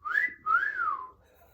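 Someone whistles two short tones close by, the first a quick rising chirp and the second a longer note that slides gently downward, clear and solo.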